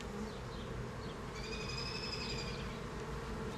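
Honeybees in a nuc hive buzz in a dense, close, continuous drone, with a few higher whining tones rising briefly in the middle, and no talk.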